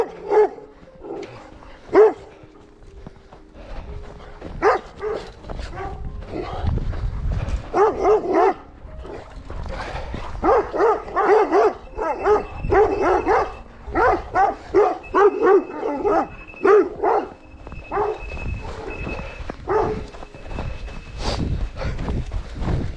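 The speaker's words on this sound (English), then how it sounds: "They just keep barking." Two dogs bark repeatedly in irregular bursts, some barks overlapping, with occasional whimpers and yips, fairly close and persistent.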